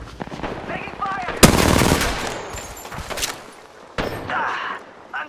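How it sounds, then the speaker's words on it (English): Rapid automatic gunfire erupts during a video game battle royale match, with a loud sustained burst of shots followed by a quieter stretch and then another round of fire. "Taking fire!"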